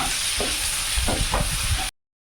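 Eggs frying in a pan with chopped onion and spices, making a loud, close, steady sizzle with stirring scrapes that stops abruptly into silence near the end.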